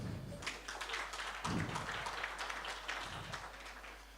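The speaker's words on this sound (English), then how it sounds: "Clap your hands." An audience at a workplace wellness policy launch breakfast meeting applauds with steady, moderately distant clapping that lasts several seconds at an even level.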